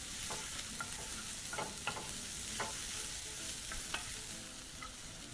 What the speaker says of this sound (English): Using a wooden spoon, proceed to mix everything in your pan.